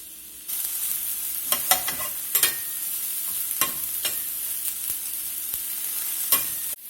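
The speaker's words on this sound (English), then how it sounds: "Get a little oil on the skillet. Go ahead and lay these onions down, let them start cooking." Onions sizzling in oil in a skillet while cooking a steak, egg and cheese bagel, a steady close frying hiss with scattered pops and a few stirring scrapes, no voices.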